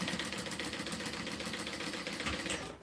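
A sewing machine runs continuously while stitching a row, a fast, even mechanical whir with rapid needle chatter, close up and unbroken, with no talking.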